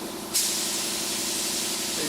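Glue being sprayed in an even wet coat for hydroprinting, a steady broad hiss that starts abruptly and continues close and loud to the end.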